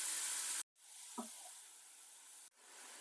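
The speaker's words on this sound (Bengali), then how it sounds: "গাজরটাকে আমি একটু নাড়িয়ে একটু জলটাকে শুকিয়ে নিচ্ছি" Grated carrot frying in a little ghee, a close hiss of sizzling that cuts out briefly twice, with one soft stirring knock in between.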